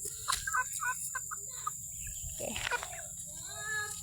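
A young chicken named Miko clucking, with a rapid series of short, close clucks and chirps in the first half, then a few softer calls, over a steady background hiss.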